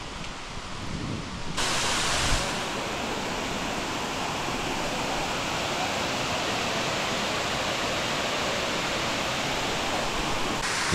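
Laurel Falls waterfall in the Smoky Mountains, reached by a short trail hike, roars as a steady, dense broadband rush of falling water that stays close and even throughout, with no voices.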